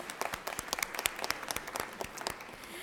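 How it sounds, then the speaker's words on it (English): Applause in the Georgia Senate chamber: a roomful of people clapping in a lively, irregular patter with distinct sharp claps, fairly close but quiet overall, and no voices over it. "Let's give her a round of applause"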